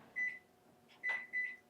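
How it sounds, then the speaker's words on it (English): Three short electronic beeps from a microwave oven being set, clear and close in a quiet kitchen. "Now, this goes into the microwave."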